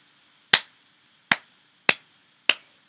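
Four sharp, isolated hand claps ring out close and clear at uneven intervals in an otherwise quiet room, each a crisp slap with a quick decay.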